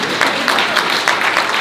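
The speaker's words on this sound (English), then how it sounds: "that really deserves an applause, doesn't it?" A crowd claps steadily and continuously, dense applause filling the room without a break.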